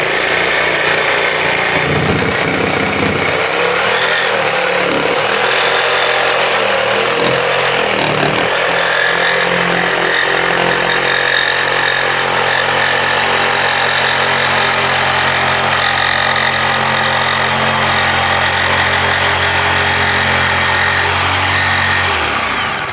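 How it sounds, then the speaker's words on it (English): A corded jigsaw saws through wood for a simple bootjack project, giving a loud, close, continuous buzzing rasp with a steady motor whine that wavers in pitch as the blade bites, running unbroken throughout with no talking. "When you're cutting with a jigsaw"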